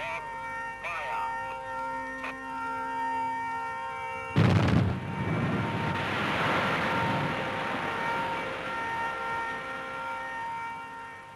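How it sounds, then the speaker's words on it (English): A sudden heavy limestone quarry blast booms out midway, its staggered charges followed by a long, rolling roar that fades slowly, breaking a steady hum. "The explosion is staggered"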